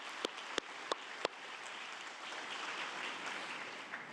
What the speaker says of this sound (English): So can we give another round of applause for Dr.